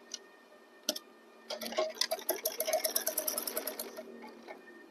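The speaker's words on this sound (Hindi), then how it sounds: "ये हमारा कट जहाँ तक है वहीं तक हम सिलाई लेकर आएंगे।" A sewing machine stitches a kurta placket, starting with a few isolated clicks and then running into a fast, even burst of ticking stitches, close and fairly quiet, before slowing to a stop.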